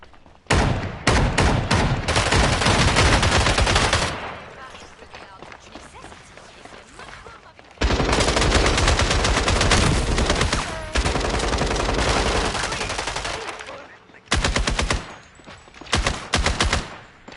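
Gunfire from the guns in the video game Fragpunk: loud, sustained automatic bursts with rapid rattling shots, broken by a short lull and then resuming in long volleys, ending in choppier bursts.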